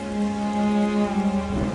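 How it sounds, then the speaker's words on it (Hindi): Steady rain falls in a dense, even hiss, with a low sustained tonal hum beneath it and a slight rumble near the end; no voices. "आज मौसम की पहली बारिश है।"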